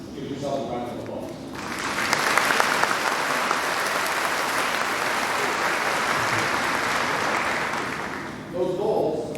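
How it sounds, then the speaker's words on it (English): Graduating students at a 2018 CMSD high school graduation break into loud, sustained applause from a large crowd. It lasts several seconds, with a speaking voice just before and after it. "Give yourself a round of applause."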